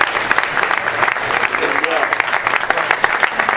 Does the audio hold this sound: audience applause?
yes